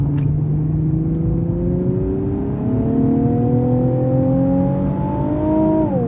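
A 2020 Nissan 370Z engine revs steadily higher while driving, its tone climbing smoothly over several seconds with road and tire noise underneath, then easing off near the end; loud and close, no voices.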